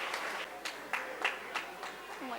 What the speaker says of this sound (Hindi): तो जोरदार तालियां इनके लिए।